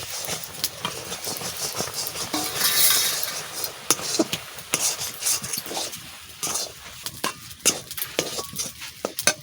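Milk and flour are stirred in a pan for homemade sandesh, giving a steady scraping and rubbing with light metallic clinks of the spoon against the pan, close and continuous.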